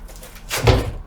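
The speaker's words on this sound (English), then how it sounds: "lift it, insert it into its groove until it stops" A patio sliding door is lifted and set into its groove, giving a short scraping slide that ends in a dull, fairly loud thud as it stops.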